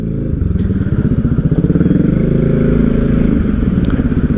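Motorcycle engine idling then pulling away on a road after a coffee stop, a loud, close, steady low throbbing rumble with rhythmic pulses building slightly, no talking.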